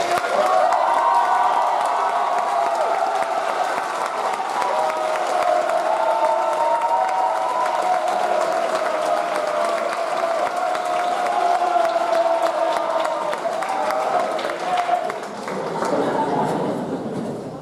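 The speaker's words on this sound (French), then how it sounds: "j'aimerais ça qu'on l'applaudisse très fort" A graduation ceremony audience at a school gives sustained applause and cheering, a dense wash of clapping with scattered whoops that carries on for a long stretch and then fades near the end.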